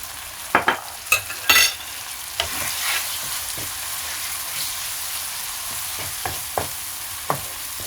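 Tomato masala with turmeric and red chili cooks in a pan, giving a continuous sizzle under several sharp, close clanks and scrapes of a spoon stirring, with no talking.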